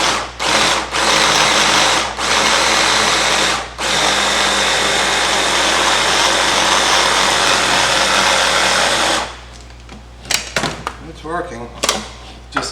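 A food processor whirs loudly as it purees forcemeat with egg whites, running in several bursts with short pauses before stopping. Clattering and a voice follow afterward.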